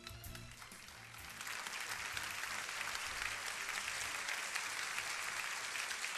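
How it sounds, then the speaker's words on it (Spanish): A large audience at the Konex awards ceremony in Argentina bursts into applause, starting softer under a low murmur and swelling into a full, steady wash of clapping. "Creo que merecen un aplauso"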